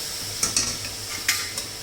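Biryani masala with tomato puree being stirred in a pan on low flame, a few soft scraping strokes and faint sizzle, quiet and close, no talk.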